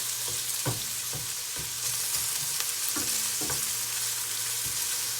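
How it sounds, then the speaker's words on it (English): Garlic and ginger sizzle in a skillet with a constant close frying hiss, punctuated by several soft stirring taps and scrapes of a utensil against the pan. "I'm just gonna pay attention that I will not burn my garlic."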